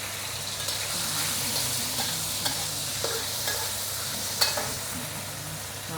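Sea cucumber and seafood stir-frying in a wok with leeks, sizzling steadily, with light scraping and stirring clatter over a constant frying hiss.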